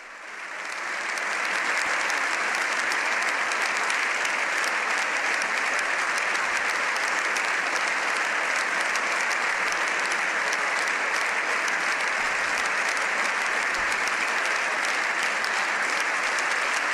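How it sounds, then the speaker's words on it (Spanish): Long, steady applause fills the chamber of the Spanish Congress of Deputies for Pope Leo XIV, a broad wash of many hands clapping that swells in over the first second and holds evenly to the end. "Largo el aplauso que ofrecen al Papa León XIV"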